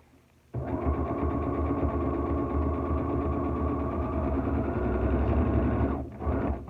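A sewing machine stitches a fabric mask liner, running in one steady, fast mechanical whir for about five seconds before briefly stopping and starting again, close and clear.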